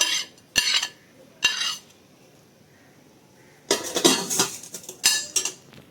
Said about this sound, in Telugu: ఇప్పుడు నేను నూరబోతున్నాను